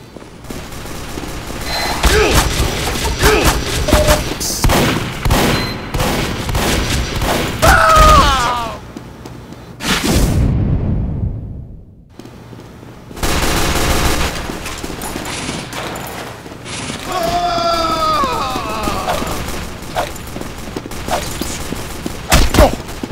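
A sentry gun in a video game fires sustained bursts of rapid automatic gunfire, loud and close, with brief breaks and heavy thuds in between; no one speaks.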